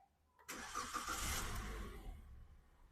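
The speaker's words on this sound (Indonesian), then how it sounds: "Kita hidupkan mesinnya." A car engine cranks and catches during a routine engine management system check, then settles into a steady running rumble. The sound is close and moderately loud, with no talking over it.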